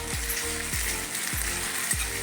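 Onion with ginger garlic paste sizzles in a pan for a paneer masala, a steady close frying hiss broken by four evenly spaced low scraping strokes of stirring.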